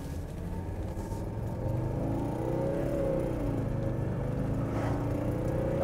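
A Mercedes diesel car accelerates under turbocharger boost, a steady low engine drone and whir heard from inside, rising gradually in pitch and load.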